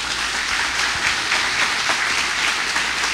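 A church congregation applauds strongly, with steady clapping rolling on throughout at an even level.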